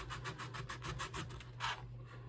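Sandpaper rubbed back and forth over a wooden gaff or boom spar, a close, quiet rasping in regular strokes about every fifth of a second, ending with one longer, heavier pass.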